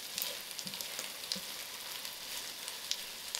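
Onions browning in melted butter in a pan sizzle with a steady, close hiss, speckled with small pops and the soft scrape of stirring, and no one speaks.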